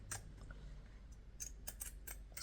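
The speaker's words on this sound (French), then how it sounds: "Ensuite, avec les ciseaux cranteurs, je vais cranter à" Pinking shears notch the edge of cardboard for a travel jewellery box, a few faint, sharp snipping clicks spaced irregularly over a quiet room background.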